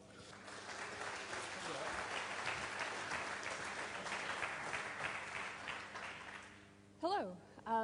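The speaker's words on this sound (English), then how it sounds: "So please give me a hand of applause for Leslie." A hall audience at a hacker conference applauds a speaker, a sustained, even wash of clapping lasting several seconds before fading, with a voice briefly starting up at the end.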